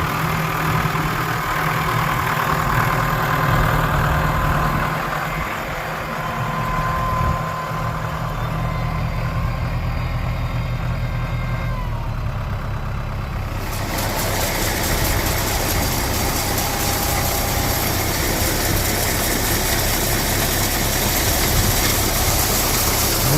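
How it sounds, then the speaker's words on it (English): A feed auger runs steadily while filling a 2,500 livestock feeder for young goats and lambs, a continuous engine-like mechanical drone that shifts to a brighter, fuller tone partway through. No one speaks. "And then we just auger them right on in there."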